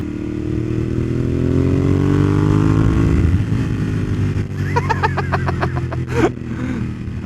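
Ducati Monster 1200S motorcycle engine droning close by under the rider, its pitch climbing steadily while accelerating in a low gear, then steadying, with wind rumble and a few rattling clicks near the end.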